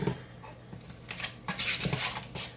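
Seasoned shrimp tossed in a pan with Old Bay seasoning, giving a few soft scraping and clattering stirs, near and fairly quiet with no talk.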